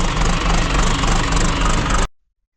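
A gelled-up farm tractor's diesel engine runs loud and close with a rough, steady clatter for about two seconds, then cuts out abruptly into silence, with no talking.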